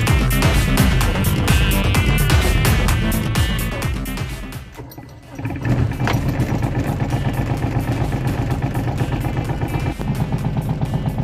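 The engine of a 2017 Aixam Crossover microcar roars under load, rising in pitch as it accelerates, with a brief dip midway before the revving picks back up, steady and close.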